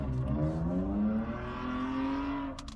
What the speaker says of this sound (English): Nobody cares about what your exhaust sounds like,